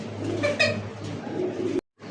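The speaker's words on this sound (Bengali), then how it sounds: "আরো এক জোড়া ব্ল্যাক হলুদ চোখের এবং গোলাপি ঠোঁটের আচ্ছা এক জোড়া গররা কবুতর" Pigeons coo softly nearby in a short burst of low, throaty calls, then the sound cuts off briefly.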